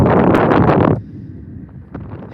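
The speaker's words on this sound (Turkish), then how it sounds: "Bildiğim kadarıyla şiddetli bir rüzgarın oluşu." Strong wind at a wildfire between Batmantaş and Çayören villages in Tokat, Turkey, buffets loudly for about a second, then drops to a quieter background hum with a brief gust near the end.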